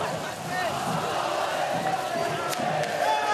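A large crowd roars and chants slogans supporting President Mohamed Morsi after a court verdict, a dense, continuous wash of voices, steady and loud throughout, with a couple of sharp bangs from fireworks near the end.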